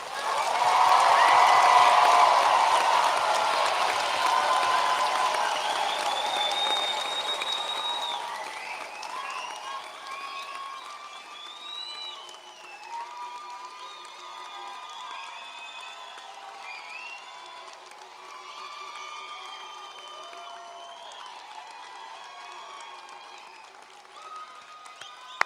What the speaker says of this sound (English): let's raise the roof with a final round of applause